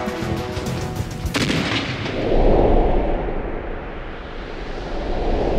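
Civil War artillery cannon fire from a hidden Confederate battery at the 1862 Battle of Fredericksburg, heard as heavy, continuous booming and rumbling with a sharp blast near the start, loud and dense throughout.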